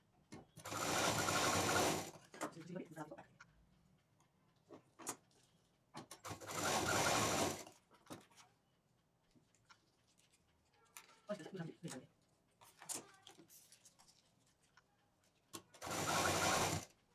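Sewing machine stitching a patchwork shoulder bag belt runs in three loud, even bursts of a couple of seconds each, separated by quieter handling noises and soft talking.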